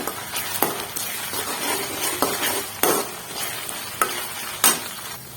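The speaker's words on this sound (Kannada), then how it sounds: "ಫ್ರೈ ಮಾಡಬೇಕು ಸೊ ಈಗ ಒಂದು ಸ್ವಲ್ಪ ಶುಂಠಿ ಬೆಳ್ಳುಳ್ಳಿ ಪೇಸ್ಟ್ನ ಅಂತೀನಿ" Ginger garlic paste frying in a pan while a spoon stirs and scrapes it, a steady sizzle broken by about eight sharp metallic scrapes at irregular intervals.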